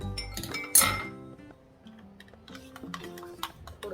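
Spoon clinking against a glass as hot coffee with half a glass of milk is mixed, a sharp bright clink near the start followed by lighter, softer taps and scrapes, close and alone with no talk.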